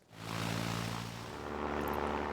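A propeller plane engine drones in the World War I flying game Sid Meier's Ace Patrol, a steady buzzing hum that swells in and then holds at a constant moderate level, with no voices.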